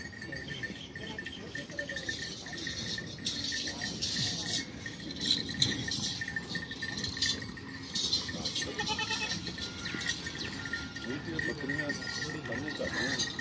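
Goats bleat now and then at a Punjab goat farm, partly buried under steady, close conversation among several people.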